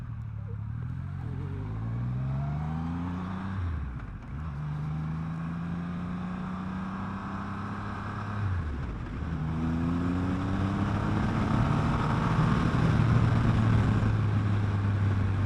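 A 2021 Triumph Rocket 3 motorcycle engine pulls hard through the gears, its rising drone climbing, dropping at each shift and climbing again, loud and steady with wind noise building underneath.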